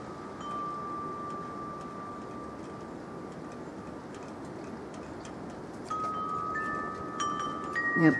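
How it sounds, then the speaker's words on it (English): Steady low wind rumble blows outdoors during snow flurries for several seconds, with faint ticking and a thin whistling tone drifting in and out; no voices. "And it's windy."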